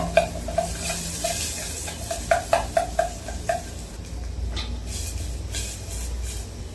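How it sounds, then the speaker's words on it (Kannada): Onions frying with mustard seeds in a pan, a soft continuous sizzle broken by a run of sharp, evenly spaced utensil taps and scrapes, then steady frying alone. "ಇವಾಗ ಈರುಳ್ಳಿ ಸ್ವಲ್ಪ ಚೆನ್ನಾಗಿ ಫ್ರೈ ಆಗಬೇಕು"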